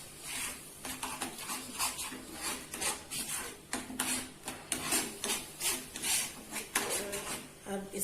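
Fried chicken pieces being mixed with cream, pepper powder and chaat masala in a bowl for chicken malai tikka, giving steady close scraping and rubbing strokes with light clinks of a utensil, repeating rhythmically throughout.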